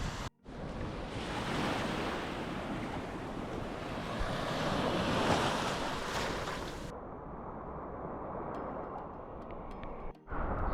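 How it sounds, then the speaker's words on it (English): Ocean waves wash onto Pillory Beach on Grand Turk in a steady, loud roar of surf with wind buffeting the microphone, the broadband rush easing slightly partway through and briefly cutting out near the end. "So, we have made it to Pillory Beach."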